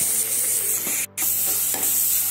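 Onions sautéing in a pan for an egg kurma curry, a dense close sizzle with stirring scrapes, broken briefly by a short silent gap before the hiss resumes, no voices.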